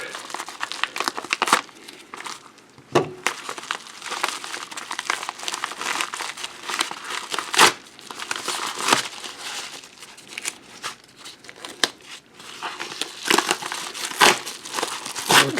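Crinkly plastic packaging of a European coin set with Vatican and San Marino coins being torn and unwrapped up close, with repeated loud rustles and sharp crackles running continuously throughout.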